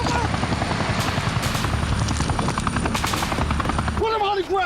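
Military helicopters fly in over Mogadishu with a loud, fast, steady rotor thump and engine whine. A voice speaks over the noise near the end.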